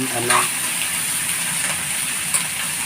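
Winged beans sautéed and stirred in a hot pan, a loud continuous sizzle with steamy hiss and occasional scraping clanks of a spatula, close by.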